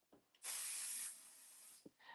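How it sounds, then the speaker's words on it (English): A single sustained burst of Pixie Spray adhesive mist from a bottle, a close hiss lasting about a second, then a softer fading spray, with light handling taps around it at a crafting table. "So I'm going to go ahead and spray this quick off the side."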